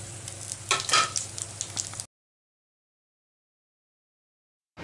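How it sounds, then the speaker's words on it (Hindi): Fenugreek leaves sizzle and crackle as they fry in hot oil over a high flame, a busy loud burst for about two seconds before the sound cuts to silence. "सबसे पहले यहाँ पर मैं मेथी डालूँगी, 7 से 8 सेकेंड थोड़ा सा वेट करूँगी, फ्लेम को हाई कर देना है।"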